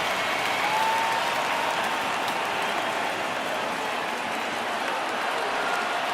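Baseball stadium crowd in MLB The Show 19 keeps up a dense, even roar of cheering and clapping for the full stretch, with no clear peaks and no speech over it.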